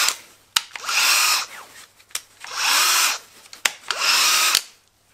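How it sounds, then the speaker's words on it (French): A Metabo BS 18 LTX BLI brushless cordless drill runs in three separate bursts, each spinning up quickly to a loud, steady whir and then stopping, with clicks between bursts, heard close and alone. "Et voilà la perceuse en question."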